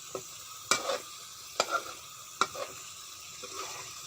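A spatula scrapes and stirs red curry paste frying in a pan for choo chee fish curry, with a steady sizzle underneath and several sharp scraping strokes at irregular intervals, close and moderately loud.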